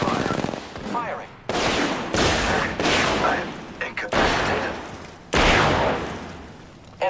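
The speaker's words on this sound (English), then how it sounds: "Taking fire. Firing." Automatic weapon fire in the battle royale game Apex Legends, with repeated loud bursts of rapid shots separated by short pauses and dense overlapping fire throughout.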